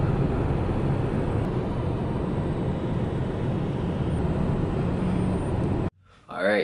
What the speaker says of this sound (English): Bangkok, the traffic is real.